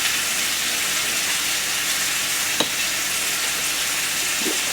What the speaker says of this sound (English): Give it a nice stir, and then go ahead and taste it for seasoning.